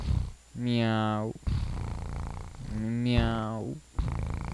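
A person imitates a cat, voicing two drawn-out, rising-and-falling meows up close over a noisy indoor background, with no real purring evident.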